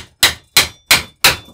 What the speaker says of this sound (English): you will need to hammer the pin into the shaft